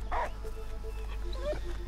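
Dog in the video game Last Day of June, a short yip or whimper near the start followed by faint whining sounds over a low steady game ambience.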